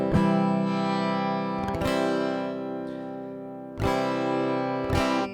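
Fender Telecaster guitar heard through its electric pickup: sustained, bright strummed chords ring out clearly, with several sharp new strums landing every second or two, close and steady.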